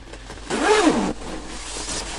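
A zipper on a slim-fit men's jumper's zip pockets is pulled once, giving a short scraping rasp of about half a second, close and moderately loud against a quiet room.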